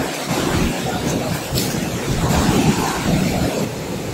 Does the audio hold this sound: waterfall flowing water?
yes